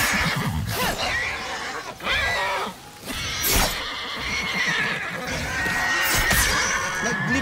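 A horse neighs and whinnies in the video game Ghost of Yotei, with layered cries and snorts over busy in-game ambience and a few scattered thumps, fairly loud and close throughout.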